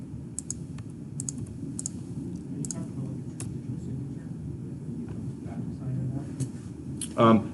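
A computer mouse clicks while PDF sheets are stamped, producing a handful of sharp, quiet clicks scattered irregularly over a low room hum, with a louder click burst near the end.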